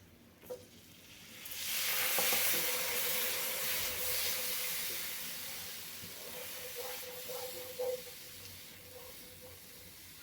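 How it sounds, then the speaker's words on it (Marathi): Milk poured into a hot pan of white sauce pasta sets off a loud, steady sizzle and hiss that swells after a quiet start, then slowly eases, with faint clinks of the pan near the end. "आपल्याला ह्याच्यामध्ये दूध ओतायचं"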